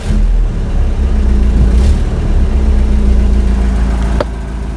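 A 1985 Toyota pickup engine idles steadily after a few minutes of running, not yet at operating temperature, with a low, even rumble that continues throughout and dips slightly near the end.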